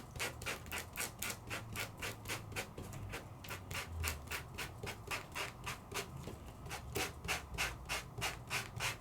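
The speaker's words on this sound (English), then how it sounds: "the sandpaper is hitting it and giving me that beautiful look" Sandpaper rubs across embossed vellum in quick, even back-and-forth strokes, about twenty soft scratchy swipes heard up close and alone.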